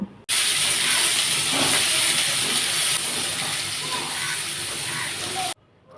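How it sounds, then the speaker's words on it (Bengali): Chopped onions and green chillies frying in oil in a wok give a loud, close, steady sizzling hiss that runs for about five seconds, then cuts off abruptly. "কড়াইতে পরিমাণ মতো তেল দিয়ে পেঁয়াজ ও কাঁচামরিচ কুচি দিয়ে সামান্য লাল লাল করে ভেজে নেব"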